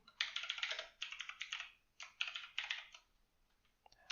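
Close, crisp typing on a computer keyboard during a coding session comes in quick bursts of clicking keys, broken by short pauses between runs.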